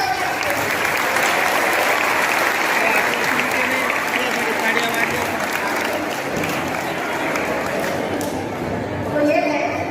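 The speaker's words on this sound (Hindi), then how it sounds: "तालियां बजाओ" Dense, sustained audience applause at a school Kathak dance program at Jawahar Navodaya Vidyalaya Akkalkuwa, loud and even for the full ten seconds with a faint crowd murmur underneath.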